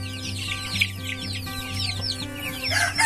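Broiler chickens clucking and chirping close by around freshly filled feeders, a busy overlapping chatter of short calls with a few louder squawks toward the end, kept alongside game fowl and native chickens.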